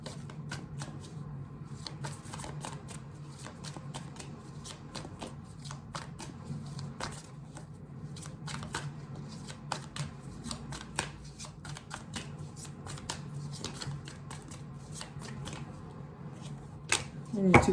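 Tarot cards shuffled for a reading, a long run of quick riffling flicks and soft slaps repeating close up, with quiet speech at times underneath.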